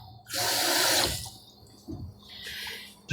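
Tap water runs into a sink while bread dough is being mixed at home: one short, loud gush, a quiet pause with a small splash, then a second softer run of water.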